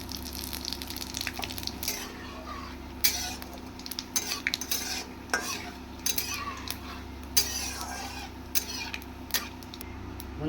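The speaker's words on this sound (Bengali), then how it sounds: "আমি ফোড়নের জন্য দুটো শুকনো লঙ্কা দিয়ে দিলাম। আর খানিকটা পাঁচ ফোড়ন দিয়ে দিলাম।" Two dried chillies and panch phoron spices sizzle in hot oil, a steady close crackle with faint clinks of a utensil stirring the pan throughout.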